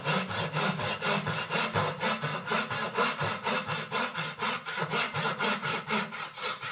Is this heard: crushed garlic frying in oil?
no